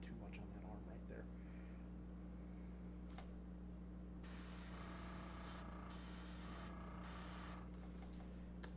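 A modest, not very precise airbrush sprays paint in long hissing bursts over a steady background hum, and a voice talks briefly.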